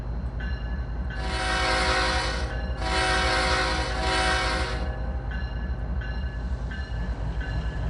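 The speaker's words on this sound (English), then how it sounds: "Now Hank is the Mallstown road train. So he dropped off what he needed to drop off, and now he's going." A locomotive in the Trainz 2022 train simulator, an ES44C4, rumbles steadily along the rails while its horn sounds two long, loud blasts back to back, then the engine noise carries on alone.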